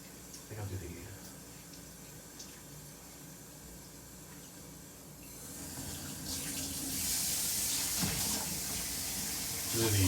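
Water runs from a kitchen tap for washing dishes, including cast iron, a steady hissing stream that swells louder halfway through, close up with faint clinks and no talk.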